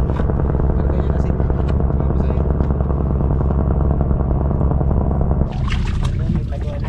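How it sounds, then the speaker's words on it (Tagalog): A helicopter passes overhead above a provincial fishing trip at sea, its loud, steady rotor thrum dominating for several seconds before the sound shifts and thins near the end. "Galing ng tunog yun, no? Helicopter."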